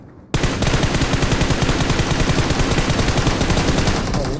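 Automatic gunfire in PUBG Mobile starts abruptly and runs as a loud, fast, evenly spaced burst of sharp shots that continues without a break to the end.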